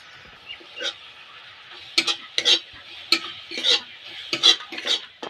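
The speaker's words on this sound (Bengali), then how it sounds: "কুড়ে রাখা নারকেল ভালো করে মিশিয়ে নেব" Grated coconut is stirred and mixed with powdered milk, giving irregular scraping and rubbing strokes at close range, with soft pauses between the bursts.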